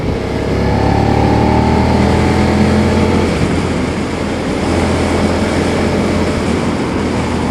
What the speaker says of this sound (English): That was a little bit of roll-on power in 5th gear, doing hardly any revs